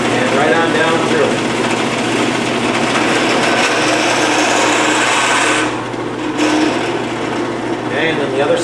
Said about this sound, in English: Drill press, check your speed. Speed looks good. And right on down through.